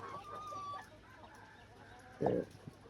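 Layer hens on a poultry farm cluck softly at moderate distance, with a brief louder squawk and a couple of short calls over a quiet hum from a fan in the shed.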